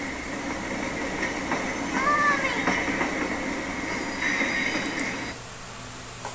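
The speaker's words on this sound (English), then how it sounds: "Are you seriously scared of a little train?" A small train rolls past in a cartoon scene, a steady rumbling rail noise with faint clickety-clack and a brief high squeal, holding loud for about five seconds before dropping away abruptly.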